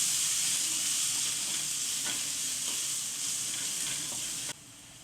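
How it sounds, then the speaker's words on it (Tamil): Spices, pepper powder and masala for egg tikka masala sauté in a pan, a steady close sizzle with light stirring scrapes that drops off sharply near the end, with no talking. "இப்போ இது எல்லாத்தையும் நல்லா வதக்கி விட்டுக்குங்க."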